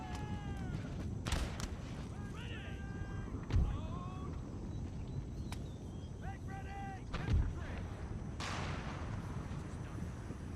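Cannon and musket fire from an Empire: Total War battle, with sharp booming shots scattered across the clip over a dense game soundscape and background music.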